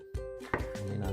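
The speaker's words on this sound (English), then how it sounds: "I'm going to chop." Two crisp knife strokes chop through food on a cutting board, each a sharp close knock, the second louder, with a faint steady tone underneath.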